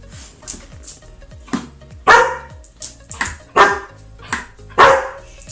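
Several sharp dog barks ring out at irregular intervals, close and fairly loud, with quieter yips and whines between them.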